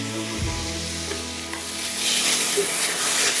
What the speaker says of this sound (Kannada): ಈಗ ಟೊಮ್ಯಾಟೊ ಚೆನ್ನಾಗಿ ಬೇಯಬೇಕಾಯ್ತಾ. ಸೊ ಅಲ್ಲಿವರೆಗೆ ಫ್ರೈ ಮಾಡ್ತಾನೆ ಇರಬೇಕು.